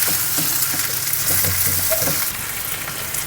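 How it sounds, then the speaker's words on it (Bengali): Two chicken pieces frying in a pan of oil on a low flame, giving a loud continuous sizzle with occasional crackles and spatters close by. "এবার লো ফ্লেমে আরও 10 মিনিট আমি এটাকে ফ্রাই করে নেব 2 পিস।"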